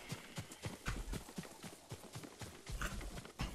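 Horse hooves clip-clopping at a steady trot in the samurai video game Ghost of Tsushima, quiet and rhythmic with no talk over them.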